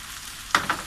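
Goat brain frying in a pan with spices, two quick sizzling bursts of stirring breaking over a quiet hiss, close and brief.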